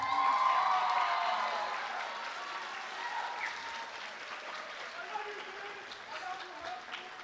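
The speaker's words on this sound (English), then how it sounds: "Let's give him a round of applause." At a high school spring band concert, a crowd applauds, the clapping loudest at the start and then settling into steady, softer applause with some scattered cheering.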